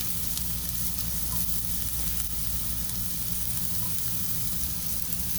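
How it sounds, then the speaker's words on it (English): Wild mushrooms fry in about a teaspoon of oil in a pan, giving a steady, even sizzle and crackle that runs unbroken for several seconds with no talking. "You don't want too much oil because your mushrooms will actually absorb a lot of it."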